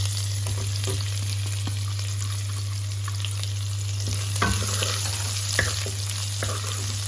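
Chopped garlic frying in a pan, a steady close sizzle with scrapes and knocks of stirring throughout, no talk.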